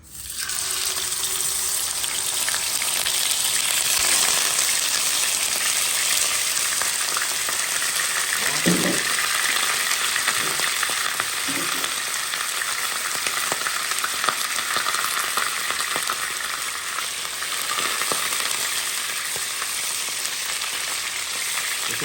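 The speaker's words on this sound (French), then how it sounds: "Je vais faire frire la viande et le poisson" Pork loin and swordfish steak frying in a pot, a loud continuous hiss and crackle of hot oil sustained throughout, with a couple of faint clanks partway through and no talk.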